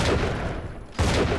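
Gunfire in the video game Bioshock 2: a loud, dense burst of shots cuts off briefly and then resumes, close and harsh over a noisy game background.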